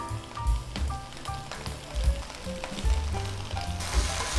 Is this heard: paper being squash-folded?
no